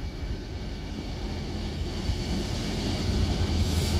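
A heavy diesel locomotive drones low and steady as a Mugunghwa passenger train rolls into Hallimjeong Station, South Korea, its broad rumble swelling slightly toward the end.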